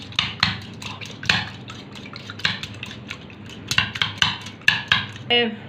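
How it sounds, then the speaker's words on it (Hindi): Eggs beaten in a bowl for a vegetable omelette, a quick, uneven run of close clinking and tapping strokes against the bowl. "इधर मैंने जो अंडे लिए थे इनको मैं अच्छे से फेंट लूँगी"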